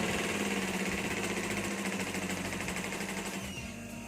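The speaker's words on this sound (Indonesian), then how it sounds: "Kita bentuk atau kita jahit garis lurus ya, garis lurus, pelan aja seperti ini." A sewing machine runs slowly while stitching a straight line, humming in a dense continuous rattle that holds steady for the whole stretch, close and loud with no speech over it.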